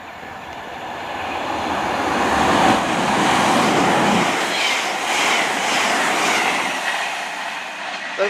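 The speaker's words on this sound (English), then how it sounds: "coming through now, we have a passing service with cross country from Gloucester to Plymouth" A CrossCountry passenger train passes through Yatton station, a loud, steady roar of wheels and rumbling carriages with faint rhythmic clatter, holding strong throughout before easing slightly at the end.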